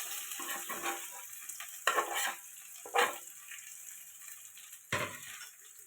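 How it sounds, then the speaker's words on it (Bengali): Potatoes and onion frying in oil in a pan, a steady close sizzle with a few louder bursts of stirring and clatter. "তেল দিয়ে দিলাম, পেঁয়াজ দিয়ে দিলাম, আলুগুলো দিয়ে দিলাম,"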